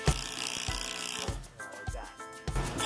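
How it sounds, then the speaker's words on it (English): A half-inch drill bit countersinks bolt holes in wood during framing work on a house addition, giving a rough grinding, ratcheting rasp with several sharp knocks, close and fairly loud, with no talk. "I'm trying to countersink these holes with that 1/2-inch drill bit."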